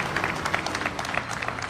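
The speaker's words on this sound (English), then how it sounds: "give him a round of applause." A crowd applauds at an FTA announcement held at Brick Church Station in East Orange, a fairly soft, steady patter of clapping heard at moderate distance.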